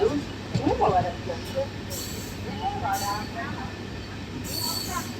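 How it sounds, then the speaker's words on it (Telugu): The Falaknuma Express rolls into Bhimavaram Junction platform 2 with a steady rumble and rattle, with intermittent squealing wheels and a voice talking over it. "మన ట్రైన్ వచ్చేసండి ఈ భీమవరం జంక్షన్లో ప్లాట్ఫామ్ నెంబర్ 2కి అయితే వచ్చిందండి"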